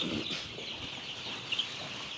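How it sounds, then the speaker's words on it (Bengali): Chickens and chicks clucking on a poultry farm, soft and fairly distant, with a couple of brief sharper peeps near the end over steady background hiss. "মুরগির বাচ্চাদের খাবার দেওয়া হবে।"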